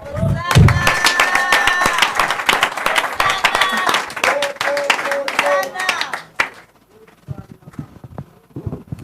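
A church congregation bursts into loud, sustained applause for the king of kings, dense clapping mixed with cheers and raised voices, then cutting off abruptly and leaving faint scattered sounds.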